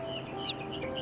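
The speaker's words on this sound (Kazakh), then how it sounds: "Анау жақта торғайлар шырылдап тұр." Sparrows chirp outdoors in a quick run of bright, high tweets over a steady low background hum, several calls overlapping across the second.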